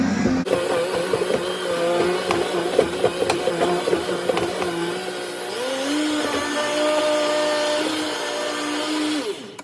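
A blender motor whirs loudly and steadily for several seconds blending watermelon, its pitch dipping and settling as the contents churn, then it cuts off.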